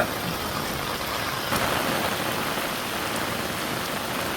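Heavy rain falls on a flood-threatened village, soaking a bicycle, heard from under an umbrella as a loud, constant broadband hiss that stays even throughout, with no speech.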